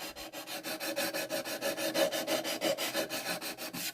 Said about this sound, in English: So I'm going to have to do a lot of back and forth sanding.